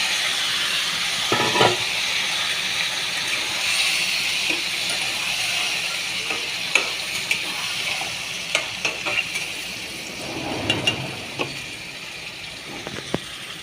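Oil-coated chicken pieces sizzle in a hot wok, a steady bright frying hiss with occasional sharp crackles and stirring scrapes throughout, no talk.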